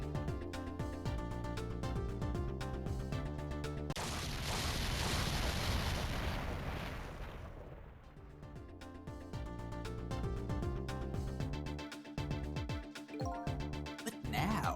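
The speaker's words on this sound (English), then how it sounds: "I think I heard an explosion somewhere." An explosion in the video game Ghost Trick: a loud, sustained roaring burst of noise that cuts through the game music, rumbles for several seconds and then fades as the music carries on.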